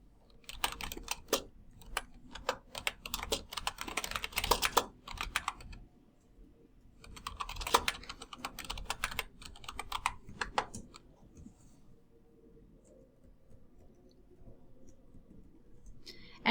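Computer keyboard typing, bursts of rapid key clicks with short pauses between them, close and fairly quiet, with no voices.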